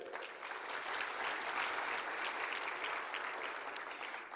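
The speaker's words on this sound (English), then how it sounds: "One more round of applause for them." Audience applause at a health conference in Africa, a steady wash of many hands clapping throughout, fairly distant and even in level, with no voices over it.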